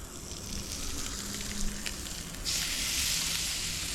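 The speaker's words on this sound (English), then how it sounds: "that's what we're listening for, that nice sizzle" Steady, close sizzling of mangrove snapper frying in a hot pan, growing louder and hissier partway through, with no talking.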